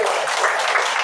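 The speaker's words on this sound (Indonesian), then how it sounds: "Tepuk tangan dulu." A short burst of audience applause at a crowded seminar, steady dense clapping lasting about a second with no speech over it.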